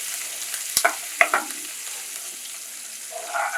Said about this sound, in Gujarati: બરાબર વઘારને આપણે હલાવી દઈશું.